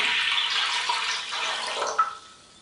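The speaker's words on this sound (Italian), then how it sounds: "Quindi versiamo l'acqua" About four litres of water poured into a pot for a natural plane-wood dye bath, a continuous splashing, gurgling stream that shifts in pitch as the pot fills, ending with a small splash.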